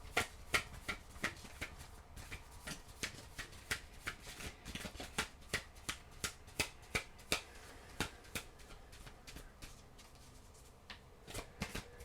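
A deck of oracle cards is shuffled by hand in rapid, uneven bursts of crisp slaps and riffles, close and fairly quiet, continuing for the whole stretch with no talking.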